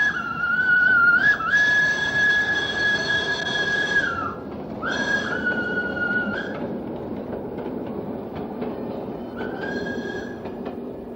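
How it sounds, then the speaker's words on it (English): A steam tram in 1974 Surabaya sounds several long, steady whistle blasts, some lasting a few seconds, over a low rolling rumble of the tram moving along the street. "the steam tram bustled through this little Holland in the tropics"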